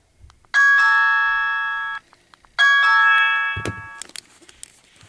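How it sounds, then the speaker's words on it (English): Two tolling chime strikes, each a bright harmonic tone that rings and slowly decays for over a second, spaced about two seconds apart, followed by faint scattered clatter. "Are those church bells I hear?"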